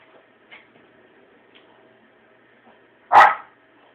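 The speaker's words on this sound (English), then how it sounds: "My dog's barking." A dog gives a single loud, sharp bark nearby after a few faint ticks and soft sounds in a quiet room.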